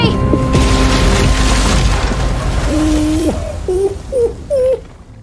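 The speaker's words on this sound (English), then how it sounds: "Kaboom. Shit, the bomb!" A bomb blasts with a deep, sustained rumble in The Walking Dead: The Final Season video game, loud and dense throughout, followed by short wailing tones near the end.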